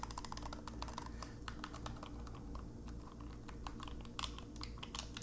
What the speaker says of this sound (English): We are able to click all our buttons.